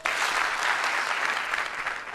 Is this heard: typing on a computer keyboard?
no